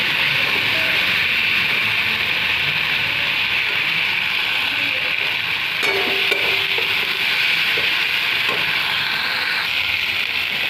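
Spice paste is stir-fried in oil in a pan, making a loud, steady sizzle throughout, with a few scraping stirs partway through.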